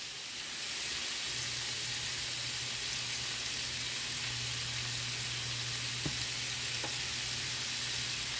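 Smoked turkey sausage sautéing in a pan gives a steady, close sizzle with a couple of faint clinks of utensils, continuous throughout and without talk.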